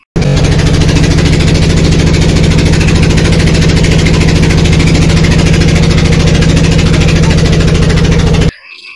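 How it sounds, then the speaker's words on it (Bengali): A trawler boat's engine runs loud and close on a river, with a constant, throbbing low drone that holds steady before cutting off abruptly near the end. "তারপর ট্রলার ছাড়ার পর আমরা নদীপথ হয়ে যাচ্ছি ওই পাশে ঘেরের ওইখানে"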